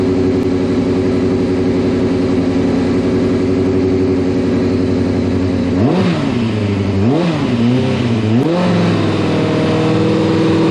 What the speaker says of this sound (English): I'm gonna give it a little flip of the throttle and see if anything changes